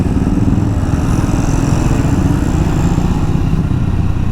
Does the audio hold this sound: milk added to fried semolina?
no